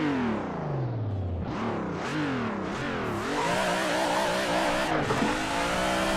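A race car engine in the Assetto Corsa racing game revs up and down through repeated throttle blips and gear changes, loud and continuous for the whole stretch, with no talking.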